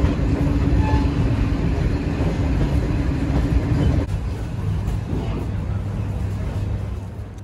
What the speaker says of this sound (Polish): Dojechaliśmy. Znaczy na razie pociągiem.